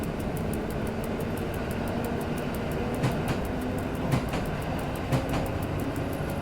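An EN57 suburban electric train runs in SimRail on the Będzin to Katowice route, giving a steady rolling rumble and motor hum with a regular rhythmic ticking and a few louder wheel clunks, no voices.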